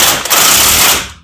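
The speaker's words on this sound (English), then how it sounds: "Torque to spec, 159 foot-pounds of torque." An impact wrench or ratchet fastens the CV axle nut on a 2005 Chevrolet Silverado to 159 foot-pounds, a loud, fast, continuous mechanical rattle lasting about a second before cutting off.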